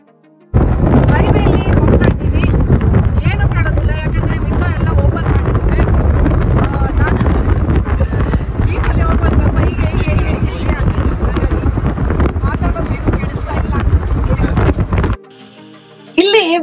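Wind pounds a microphone in an open-top Jeep Gladiator Rubicon, making a loud, close, unbroken roar and rumble for about fourteen seconds before it drops away abruptly.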